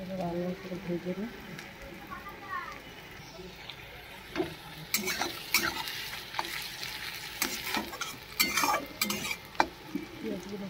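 Onions fried in oil with cumin in a pan for a home chicken curry, stirred with a utensil: scraping and clinking strokes come irregularly over a steady soft sizzle, growing busier in the second half.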